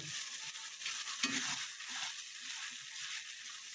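Tomatoes and green chillies frying in a pan for an egg curry, a continuous soft hiss and sizzle with light stirring scrapes, close but fairly quiet with no voices.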